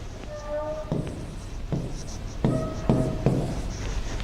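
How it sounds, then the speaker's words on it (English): A stylus or finger taps and scratches on an interactive flat panel touch screen while writing, a run of short irregular strokes and knocks over a steady background hum. "and you can write on the screen"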